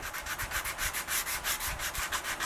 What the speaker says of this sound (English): let's get some sanding done on this thing. I've got 80 grit sandpaper on this soft block